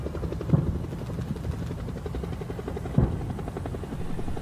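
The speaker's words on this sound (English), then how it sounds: "Oh look, there is a helicopter." Helicopter in The Survivalists video game, a steady rotor chop with rhythmic beating pulses droning throughout, fairly close, with a couple of brief thumps.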